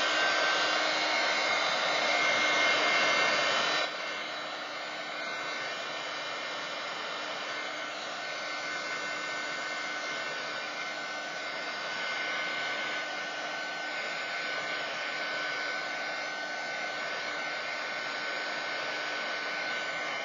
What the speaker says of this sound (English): Okay, I'm gonna dry that up.